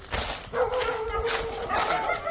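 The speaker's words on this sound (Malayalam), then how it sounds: "ഇത് തെരുവ് നായ." A stray dog at a farmhouse gives a short whining bark and a few yips close by, a brief burst of sound lasting a couple of seconds.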